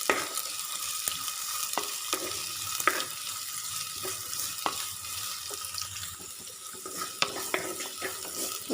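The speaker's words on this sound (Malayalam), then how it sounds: "ചെറിയുള്ളി അരിഞ്ഞത് ഇട്ട് കൊടുത്തതിന് ശേഷം നന്നായിട്ട് ഇളക്കി കൊടുക്കാം" Chopped shallots fry in a pan for a Kerala curd green chilli curry, giving a steady close sizzle broken by repeated clinks and scrapes of a stirring spoon, with no talk.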